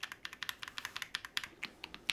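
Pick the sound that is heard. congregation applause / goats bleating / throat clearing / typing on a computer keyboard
typing on a computer keyboard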